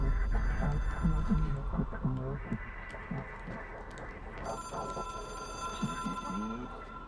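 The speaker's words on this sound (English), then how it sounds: "It is a phone. It's an object of power." A ringing telephone that is an object of power in the video game Control sounds as a steady, sustained electronic ring with layered tones. It plays over a low hum and faint voice-like murmurs throughout.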